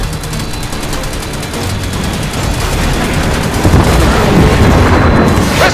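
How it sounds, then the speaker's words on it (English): Missile explosions and heavy gunfire in the Destiny 2 beta boom and rattle loudly and continuously, building denser near the end as rapid blasts pile up. "Missiles! Stay inside my shield!"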